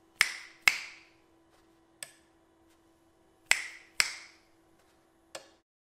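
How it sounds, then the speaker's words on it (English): Fingers snapping close to the microphone of The Clapper, six sharp, crisp snaps in uneven pairs and singles with short decays, alone against near silence and a faint steady hum. "You can even snap your fingers to trigger it if you're up close enough to the microphone."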